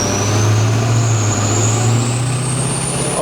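A 6.0L Powerstroke diesel truck engine with a Jetfire turbo, built to about 1200 hp, drones loudly and steadily up close, its low rumble edging upward with a rising turbo whine through a light rev.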